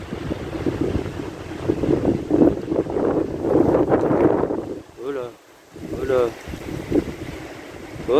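Mistral storm gusts around 110 km/h in Saint-Rémy-de-Provence, a loud continuous roaring rush buffeting the microphone, dropping briefly before surging again, with a voice speaking near the end.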